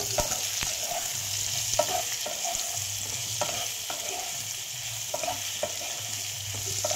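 Food being stirred in a frying pan with a pinch of salt and a little turmeric powder, giving a steady sizzle under repeated soft scraping and clinking strokes at an even, unhurried pace, close by and with no voices.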